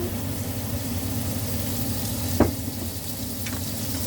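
Onions browning in a pan of butter and olive oil give a steady, close frying sizzle, with a brief sharp clink of a utensil near the middle and a softer tap later, and no talking.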